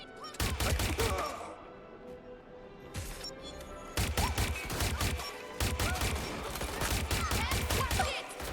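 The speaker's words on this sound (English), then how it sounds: "That's it! Shots fired!" Gunshots in the video game Watch Dogs Legion crack in rapid, loud volleys, with a brief lull and then renewed sustained firing.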